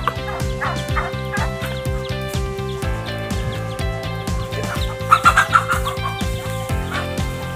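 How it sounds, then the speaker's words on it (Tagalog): Native chickens cluck and call repeatedly over a steady rhythmic mechanical hum, with a louder burst of squawking partway through. "Native chicken"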